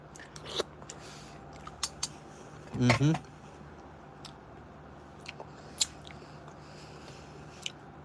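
A crunchy apple-flavored snack is bitten once, giving a short, loud crunching burst midway through an otherwise quiet stretch with faint clicks and a low steady hum.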